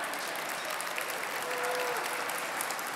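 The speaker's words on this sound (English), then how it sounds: "applause for them." A dinner audience at an annual bar association gala claps steadily in a large hall, a dense, even wash of many hands with a faint voice briefly rising within it.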